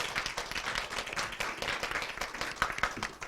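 A spelling bee audience breaks into applause, a dense, even wash of many hands clapping that continues steadily throughout.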